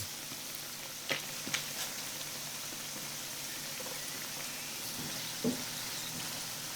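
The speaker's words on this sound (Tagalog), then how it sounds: "Pirituhin natin to into medium heat hanggang sa lumutong ito." Chopped pork sisig fries in oil over medium heat, giving a steady, close, even sizzle with a few faint clicks of utensils and no talking.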